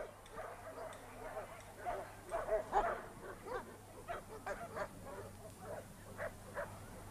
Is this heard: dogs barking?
yes